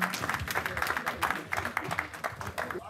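Applause for Mr. Guirassy at a book event in Bordeaux, steady broadband clapping from a modest gathering, fairly close and continuous for the whole stretch.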